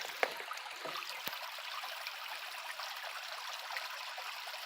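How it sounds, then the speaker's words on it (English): Steady running water of a small creek babbling and trickling, a continuous close wash with no voices. "I love the sound of little creeks running and babbling brooks."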